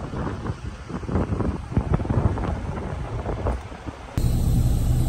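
Hot wind gusts and roars across the microphone beside a truck on I-10 in Louisiana, buffeting unevenly throughout and growing steadier and louder near the end.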